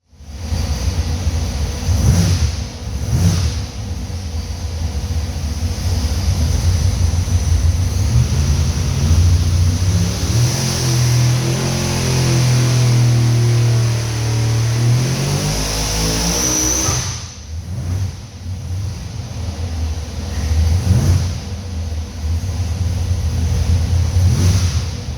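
ProCharged big block Chevy engine on a dyno, loud and close, idling roughly, then revving up into a long, rising pull that climbs to a sustained high-rpm roar before cutting back to a lumpy idle.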